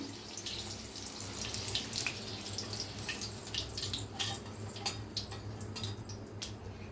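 Water runs steadily into a pot in a home kitchen to make tea, a continuous close trickling and splashing with faint drips and no speech.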